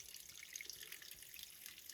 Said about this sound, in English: There's a cute little stream.